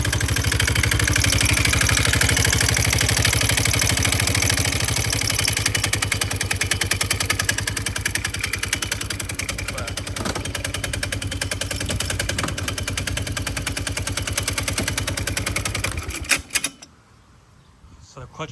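Polaris Sportsman 500 ATV engine with a noisy slipping clutch, running loud and continuous with a rapid rattling chatter and steady drone, close up, before cutting off abruptly near the end.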